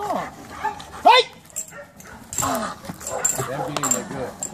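A small dog yips, barks and whimpers in short bursts at close range, mixed in with excited human talking and exclamations.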